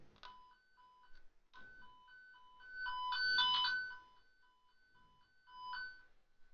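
A telephone line toner sends its warbling electronic tone pulse, a quiet repeating pattern of alternating beeps in short bursts with brief gaps between them, heard alone.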